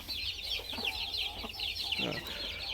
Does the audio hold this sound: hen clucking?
yes